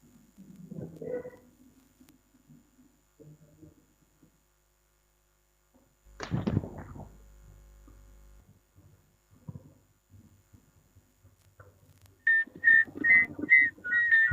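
Short bursts of high, wavering whistling near the end, following scattered murmurs and a brief clatter in an otherwise quiet room.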